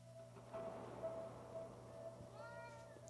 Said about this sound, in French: Ah, le chat. Non, le chat.